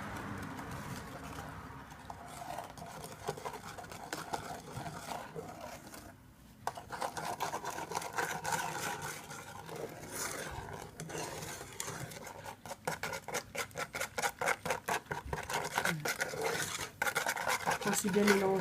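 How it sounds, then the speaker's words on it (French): A whisk stirs milk into choux pastry dough in a bowl, making continuous soft scraping and tapping strokes that grow into a quicker, regular rhythm, close and moderately quiet. "je vais mélanger doucement avec mon fouet pour bien mélanger le lait à la petite pâte"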